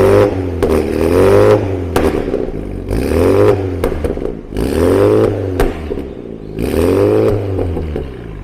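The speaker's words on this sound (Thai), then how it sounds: "เสียงท่อเมื่อกี้ได้ฟังกันนะครับ" A Mini John Cooper Works GP3's titanium exhaust revs repeatedly, rising and falling in about four throaty bursts with a deep rumble between them, close and loud.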